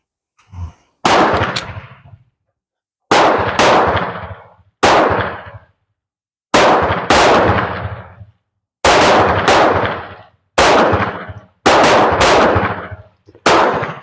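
Zastava M70 7.65mm pistol (Crvena Zastava) fired in a series of eight sharp, loud reports, spaced a second or two apart with brief decaying echoes between shots.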